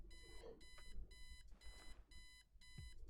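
An alarm clock rings in the video game Kathy Rain, repeated bursts of loud electronic beeping in a steady on-off rhythm, with faint background noise between the bursts.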